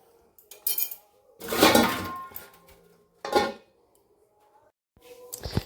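Steel idli maker handled in a home kitchen: several clattering metallic bursts of clanks and clinks separated by quiet gaps, close and moderately loud, with a faint hum underneath.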